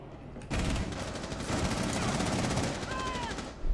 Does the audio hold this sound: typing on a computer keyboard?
no